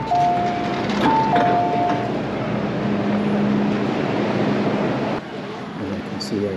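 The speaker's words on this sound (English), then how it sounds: "And I can see a train moving away." A Hong Kong metro train pulls away from the platform at North Point station with a steady, loud rumble. Brief electronic chime tones sound near the start.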